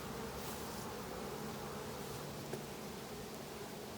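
Honey bees crowd a hive frame, giving off a steady, dense buzzing that holds level throughout, with one faint tick partway through.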